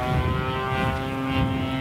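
A 38cc gas-engine radio-controlled airplane, the Flite Test Roadrunner, drones steadily in flight with a strong buzzing engine tone that stays even throughout, heard alone.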